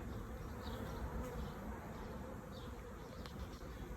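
Swarm of honey bees buzzing around a tree branch outdoors, a steady, dense drone of many wings heard from fairly close, continuous and alone.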